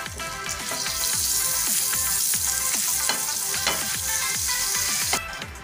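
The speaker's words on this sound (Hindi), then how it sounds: "एक पैन में मैंने थोड़ा सा ऑयल ले लिया है। अब हम इसमें 1 चम्मच बटर ऐड करेंगे" Butter sizzles and fries in hot oil in a pan, a steady close crackle with frequent small pops and stirring scrapes, with no voices.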